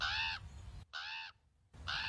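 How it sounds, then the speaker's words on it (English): Establishing shot of the power plant in The Simpsons, where a crow caws three times in harsh, evenly spaced calls, loud and alone. "In nearly every establishing shot of the power plant, a crow can be heard."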